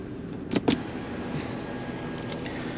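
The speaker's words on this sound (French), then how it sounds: "Donc toit ouvrant comme je vous disais." Electric sunroof of a BMW X3 20d opening inside the car, a faint steady motor whir with two short clicks near the start, heard in a quiet cabin.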